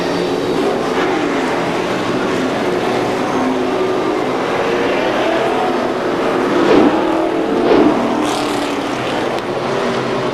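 ACT Dodge Tour race cars at Star Speedway roll around the oval in a steady, loud engine roar, with swells in noise as the pack passes close by.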